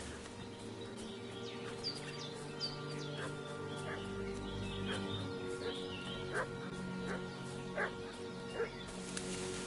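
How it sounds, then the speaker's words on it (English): A dog barks and fusses in the medieval video game Kingdom Come: Deliverance II, with short yelps scattered over an ambient bed of birdsong and outdoor background noise, fairly distant and steady. "What's that dog making such a fuss about?"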